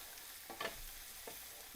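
Spices such as chili powder and ground coriander being stirred into a frying vegan dhansak, a soft continuous sizzle with a few quick scraping stirs in the pan.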